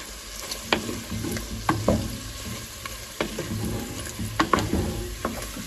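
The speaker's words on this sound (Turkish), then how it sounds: "bakın şöyle ciğerimiz bayağı kavruluyor" Liver frying in plenty of its own fat in a pan, a continuous crackling sizzle punctuated by repeated scraping clatters of stirring, close and fairly quiet, without speech.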